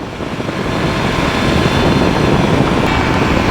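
A Peabee Nanolight flexwing microlight climbs away after takeoff, its engine roaring loud and steady close by, wrapped in a broad wash of propeller and wind noise with no voices.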